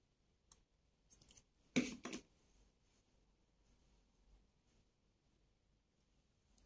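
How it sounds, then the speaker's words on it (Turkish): Scissors snip through knitting yarn while finishing a two-needle knitted newborn baby vest, a few quiet clicks followed by one crisp close cut and a second snip, then near silence. "Bu ipimi kesiyorum."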